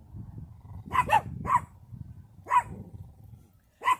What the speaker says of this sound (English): there just might be a dog in that car